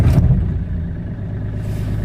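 A Mahindra TUV300 T4 engine turning over and settling into a loud, low, rough idle at close range, with a brief clatter at the start and no talk.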